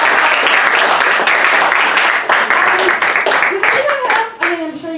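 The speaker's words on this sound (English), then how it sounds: "You guys can clap." Audience applause fills a poetry salon, a dense wash of many hands clapping loudly and steadily for several seconds before thinning out, with a few voices chattering underneath.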